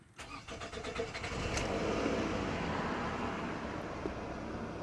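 A Scion tC fires up for the first time after an engine swap. It cranks in a rapid rhythmic chug, catches, then settles into a steady idle. The engine is close and moderately quiet, with no talk.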